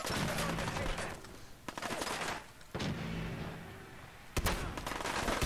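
Gunfire in the video game Fallout 4 near mannequins: several loud, sharp bursts of shots, some in rapid succession, separated by brief pauses over a dense, noisy background.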